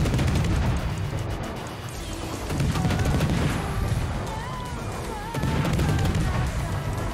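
Cruiser gunfire in a naval game, a dense roar of rolling booms and overlapping blasts, loud and continuous, with swells of heavier salvos and speech mixed in.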